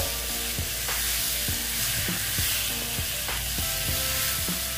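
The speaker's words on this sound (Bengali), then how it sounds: "মাছ সহ একটু কষিয়ে নিচ্ছি" Mourola fish frying with spices in an oil-filled pan, a steady loud sizzle throughout with periodic scraping knocks from stirring, no voices.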